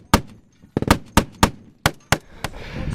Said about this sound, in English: the rear vehicle comes under fire